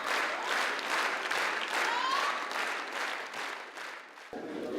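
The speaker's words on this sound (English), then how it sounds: "the audience's thunderous applause was the best proof" A theatre audience in Ukraine gives loud, sustained applause that swells and fades slightly before a voice begins.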